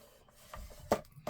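Scored cardstock for a vintage holiday scrapbook album is creased and folded down, giving a few short dry crackles and rubbing scrapes close up.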